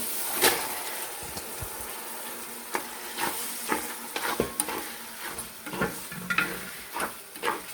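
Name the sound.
chana dal frying and stirred in masala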